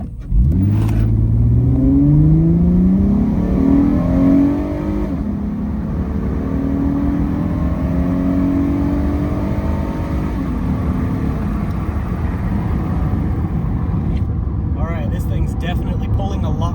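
A 2008 Acura MDX SUV engine pulls hard from a standstill to 60 mph, its rising harmonics climbing through several gear shifts before settling into a steady, loud cruise drone with road noise.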